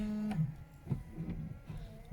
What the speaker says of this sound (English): Okay, so wipers, washers working.